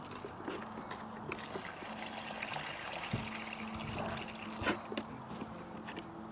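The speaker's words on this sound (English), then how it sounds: "Let's give it a little bit of water." Water is poured gently onto a newly planted summer vegetable in an urban garden, a soft, continuous trickle and patter on the soil with a few small knocks, close and fairly quiet.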